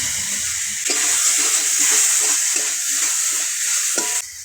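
Ginger and garlic paste sizzles steadily in hot oil for chicken curry, with a spatula scraping and stirring through it in repeated close strokes before the sizzle briefly eases at the end.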